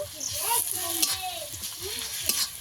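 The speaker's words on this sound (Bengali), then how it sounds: "আদা রসুন আর পেঁয়াজ একসঙ্গে ভালো করে ভেজে নেব।" Ginger garlic paste and onions sizzle in hot oil in a pan, a steady crackling hiss with a few scraping stirs, under a voice talking in the foreground.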